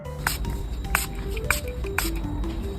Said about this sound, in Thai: ส่วนข้างนี้เราก็จะฉีดสเปรย์กลิ่นส้มเข้าไปเหมือนกันค่ะ